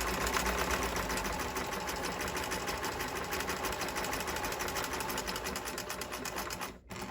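A sewing machine runs a continuous line of stay stitching along a garment edge, a fast steady mechanical whir close by, stopping abruptly near the end before a brief restart.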